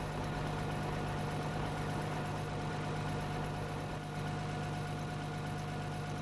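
Tractor engine in Farming Simulator 13 running at steady high revs, a constant droning hum with a low throb and a faint tonal whine, mechanical and unchanging throughout.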